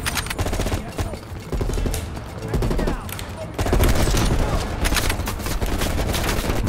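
Machine gun fire in the shooter game Call of Duty Black Ops Cold War comes as loud, rapid bursts of rattling shots, briefly broken by a pause and then resuming heavier, with mixed battle noise.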